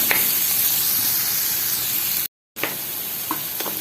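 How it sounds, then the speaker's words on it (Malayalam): Sardine curry ingredients, garlic and ginger among them, sizzle as they are sautéed in a pan, giving a steady close hiss. It breaks off briefly in the middle and then resumes. "നന്നായിട്ടൊന്ന് വഴറ്റിയിട്ട് വേണം നമുക്കിത്."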